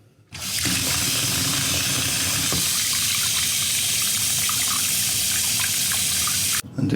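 Cold tap water gushes steadily over a scored glass bottle, a loud continuous splashing stream that starts abruptly and cuts off near the end.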